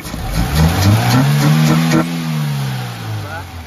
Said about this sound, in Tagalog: Kita nyo yung galit ng makina, napakalayo dun sa kagabi na pag diniinan mo, nabubulunan.